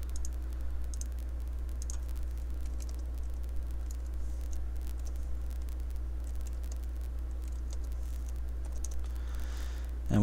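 Numbers are typed on a computer keyboard in a run of quick, light key clicks over a low steady hum, faint and close, lasting about ten seconds.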